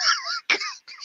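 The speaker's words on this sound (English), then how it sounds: "He's got a nasty cough." A man gives a few harsh, close coughs in quick succession, each a short throaty burst separated by brief pauses.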